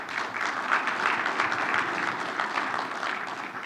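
Audience applause at a trucking-industry gathering with the FMCSA chief, a dense steady patter of many hands lasting a few seconds at moderate volume, heard alone.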